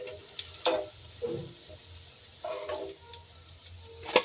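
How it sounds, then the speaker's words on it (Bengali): A crispy, freshly fried bottle gourd leaf fritter is snapped apart, giving a few sharp, close crunches and crackles separated by quiet pauses. "আপনাদের দেখাচ্ছি ভেঙে কতটা মুচমুচে হয়েছে।"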